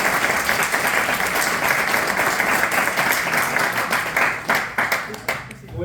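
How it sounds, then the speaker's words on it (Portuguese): A class audience at the end of a lecture on combating online disinformation breaks into loud, dense applause that holds steady for several seconds, then thins into scattered separate claps as it dies away. "Queria pedir uma salva de palmas para a Caio"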